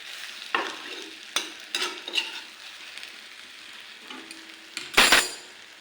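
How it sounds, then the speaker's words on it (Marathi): Stuffed eggplants are stirred in a pan after the lid comes off, village-style and steam-cooked. A spoon scrapes and knocks against the pan in several close strokes over a soft sizzle, and a louder clatter comes near the end. "आता आपण झाकण काढून बघूया व्यवस्थित मिक्स करून घ्यायचं"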